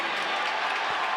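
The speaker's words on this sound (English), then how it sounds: "And the crowd whoops it up for Hubbard." A basketball arena crowd at a Duke Blue Devils vs Miami Hurricanes game cheers and claps in a steady, dense roar that fills the brief moment.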